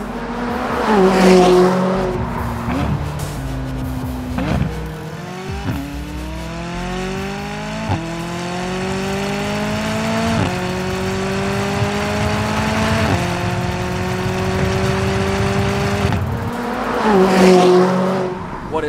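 McLaren 570 fitted with a Ryft titanium exhaust system, revving loudly and accelerating nearby through a run of rising gear pulls with brief dips at each shift, then settling back near the end; no talking is heard.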